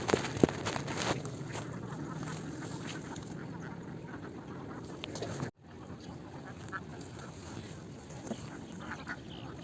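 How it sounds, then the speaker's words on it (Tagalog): Domestic ducks on a farm quack continuously in a dense, steady flock chorus at fairly close range, with faint background noise and no clear speech. "So yun yung mga itik namin."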